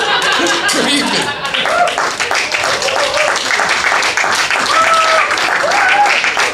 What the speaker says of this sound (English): One more time for Royce, everybody. Clap it up for him.